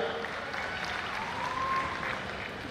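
Audience at a university youth festival prize ceremony clapping together, a steady, fairly faint wash of applause lasting a few seconds with no talking.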